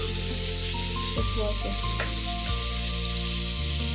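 Val birde bhaji, a field-bean vegetable dish, frying in a pan with a steady loud sizzle throughout, with faint stirring and a brief spoken remark in the background.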